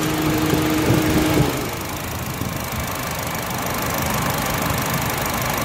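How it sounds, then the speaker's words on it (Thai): A 2009 Honda City 1.5 with an automatic gearbox idles with its hood open, making a steady, even engine hum with no voices. "ฟังเสียงเครื่องนะครับ"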